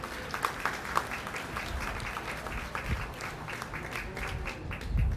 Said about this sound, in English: Let's give all of our market steer exhibitors a big round of applause.